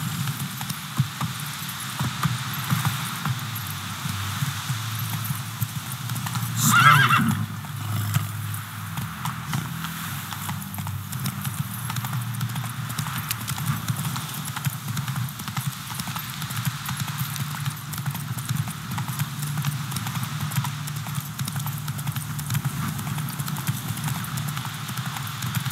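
Roach, a horse in the video game The Witcher 3, gallops with continuous rhythmic hoofbeats under a steady wash of wind and ambient noise; no clear whinny stands out.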